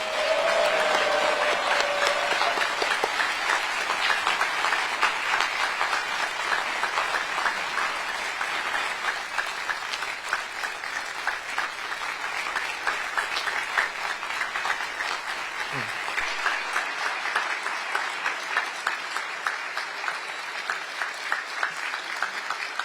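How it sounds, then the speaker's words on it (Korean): A large audience applauds after the 21st South Korean president's inaugural address: sustained, loud clapping that thins toward distinct individual claps, continuing without pause for over twenty seconds. "다시 한번 대통령님께 큰 박수 보내주시기 바랍니다"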